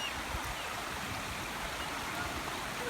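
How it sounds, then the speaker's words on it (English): A small stream flowing during a nature walk, a soft, steady babbling trickle heard close by at low volume, with no voices. "we came across a little stream here to cross."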